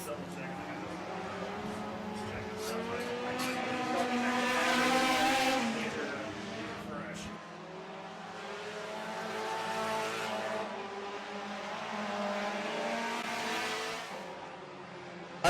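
Several race car engines drone and rise in the distance, swelling and fading as they circle the Brownstown speedway, with a voice talking over them throughout.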